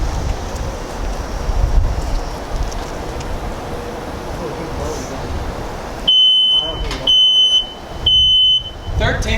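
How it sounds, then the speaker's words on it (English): A smoke alarm sounds during a fire safety demonstration, its high beeps coming in repeated bursts in the last few seconds after a stretch of wind and loud outdoor noise. "13 seconds, smoke alarm activation."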